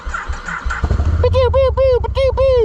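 A 2026 Can-Am Outlander XMR 1000 ATV engine revving on a muddy trail, a low idle rumble that climbs into repeated rising and falling rev bursts, close and loud, with a voice talking at the start.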